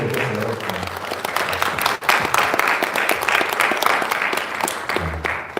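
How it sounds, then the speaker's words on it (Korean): A church congregation at Sunday worship claps for a visiting university president, dense, loud, sustained applause from many hands filling the room, with a brief dip midway and a little voice showing through at the start and end. "박수 해주시겠습니다"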